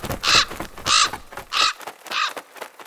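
A raven gives four loud, harsh caws at a steady, evenly spaced rhythm, close by with nothing else heard.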